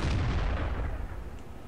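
A single artillery shot in the World of Tanks video game, a deep booming blast that rolls off into a fading rumble, loud and alone.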